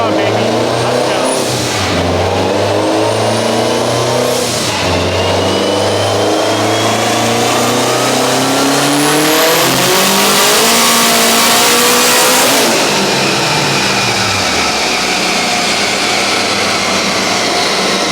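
Turbocharged Honda Type R accelerating hard on the street, loud engine revs climbing through gears with brief dips at each shift, close and continuous, with voices talking over it.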